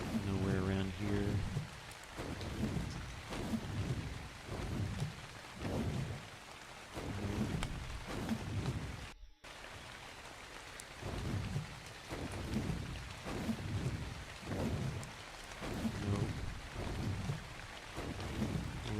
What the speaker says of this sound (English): Of course it's raining, but you know.